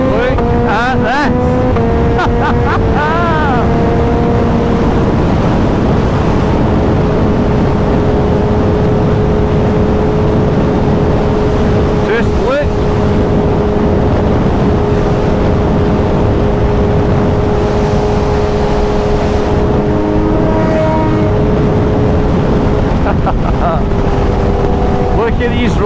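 Motorcycles riding along scenic roads between Oban and Glasgow, a steady loud engine drone with shifting pitch and strong wind buffeting the microphone, running continuously for the whole stretch.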